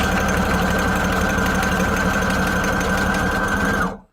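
A sewing machine stitches through paper scraps, running in one continuous, loud, steady mechanical hum with rapid needle chatter before stopping abruptly.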